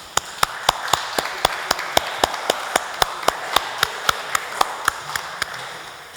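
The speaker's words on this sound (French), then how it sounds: "Je crois qu'on peut les applaudir." Church congregation at a Sunday service applauding in a slow, steady unison rhythm, each clap a sharp distinct strike over a faint background murmur.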